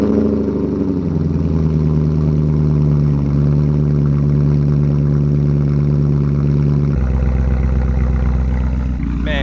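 BMW E39 M5 with its V8 running, a close, steady mechanical drone holding level for several seconds before dropping abruptly to a lower idle, with a brief rising rev at the end.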